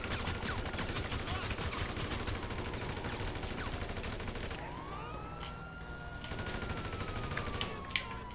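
Gunfire in GTA rattles out in rapid bursts over a wailing police siren, with a dense layer of game noise and a sharp crack near the end.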